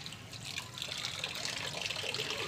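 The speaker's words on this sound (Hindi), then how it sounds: "इनका जो प्याला है पानी वाला दोस्तों वो साफ़ हो रहा है" Water runs steadily from a tap onto a pet's drinking bowl as it is rinsed clean while tidying a hen setup, a continuous close splashing rush with no voices.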